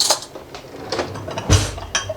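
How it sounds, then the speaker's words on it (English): Salted water is stirred into cabbage in a container for homemade sauerkraut, producing scattered clinks and scraping knocks with a soft thud partway through, close and moderately loud. "Just kind of stir it in."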